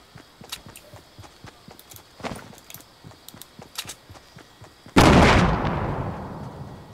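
Gunfire in a Fortnite battle royale match, a string of sharp cracks and light footstep-like taps, then a sudden loud blast that decays into a long rumbling tail, no speech.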